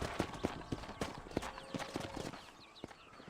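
Horse hooves clip-clop in a steady, close rhythm of sharp knocks in the video game Red Dead Redemption, slowing and thinning toward the end.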